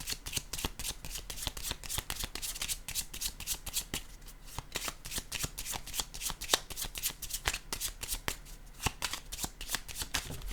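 Small purple oracle cards being shuffled, a steady run of crisp riffling slaps and flutters repeating for about ten seconds, close and fairly loud with no talking.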